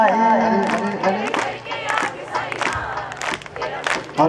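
A crowd at a devotional Sai gathering shouts praise together in loud, rising cheers and chants, with several surges of collective voices and some scattered calls.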